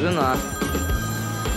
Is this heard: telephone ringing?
yes